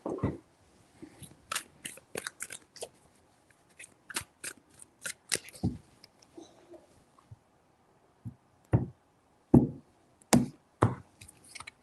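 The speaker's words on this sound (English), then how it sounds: "For the Aquarius, three shuffles." Tarot cards being shuffled in bursts, with sharp riffling snaps and soft slaps that come in clusters separated by quiet pauses, close and fairly crisp.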